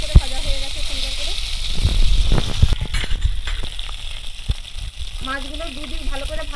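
Fish sizzling in mustard oil in a kadai as the pieces are flipped over: a hissing fry with clatter and scraping in the middle, and someone speaking over it at the beginning and the end.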